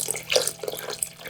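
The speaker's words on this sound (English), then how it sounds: "Next, you'll want to fill your pot with water, ideally filtered water." Filtered water runs from a tap into an Instant Pot's inner pot, filling toward the max line for bone broth; a steady splashing pour that fluctuates softly throughout, close by with no voices.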